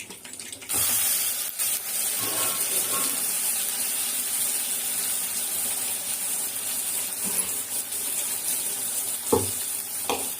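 Fried spice masala with sautéed onion and curry leaves is poured into crab gravy, giving a steady, close sizzle with a watery pouring texture and a few soft stirring knocks throughout, with no talking.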